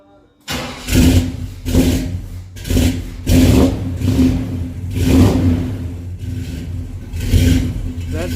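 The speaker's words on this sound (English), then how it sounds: "here's the first start with the new exhaust" A Chevy C10 Square Body truck's 454 engine with a new exhaust cranks in repeated rhythmic bursts, struggling to catch, loud and close with a deep chugging exhaust note.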